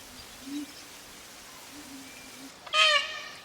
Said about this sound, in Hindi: ये बोल रहा है पीकॉक उस जगह पे।